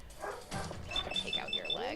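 Dog whimpering in the video game Fallout 4, faint whines and yips over quiet game noise and a voice speaking in the background.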